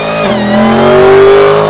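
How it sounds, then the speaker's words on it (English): A supercharged Dodge Charger Hellcat Redeye V8 engine revs loud and close, its pitch rising steadily with a supercharger whine on top. "Makes the supercharger sound amazing"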